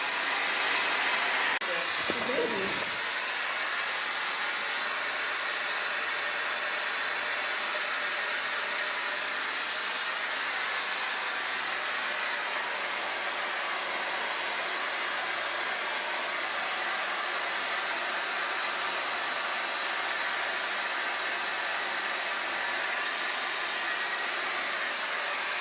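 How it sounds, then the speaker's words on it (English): A handheld hair dryer blows steadily while long hair is dried into a bob, a continuous loud airy roar running unbroken through the whole stretch after a brief knock at the start. "So far blow drying."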